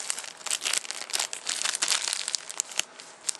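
A plastic bag held with a couple of rubber bands, stored inside another plastic bag in a survival kit, crinkles and rustles close up in dense, continuous crackling handling bursts.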